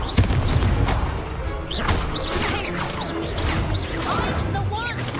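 A Confringo blast spell in Hogwarts Legacy erupts amid a busy spell duel, with loud crashes, whooshes and whistling streaks, while a player calls out spell names.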